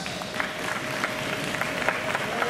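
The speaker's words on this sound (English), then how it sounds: "Let's give another round of applause." A crowd at a show in Arkansas gives a round of applause, a continuous, fairly faint wash of many hands clapping with a steady tone and a murmur of voices beneath.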